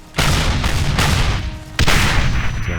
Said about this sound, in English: There are artillery pieces like, the German side, the dreaded 88.